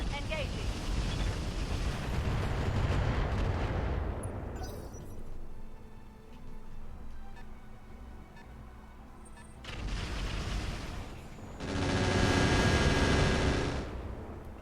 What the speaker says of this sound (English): I'll fire some regular missiles at you